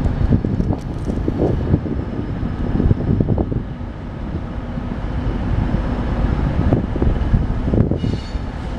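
Outdoor wind on a breezy day blows in continuous rough, low buffeting gusts across the microphone, loud and unbroken, with no talk.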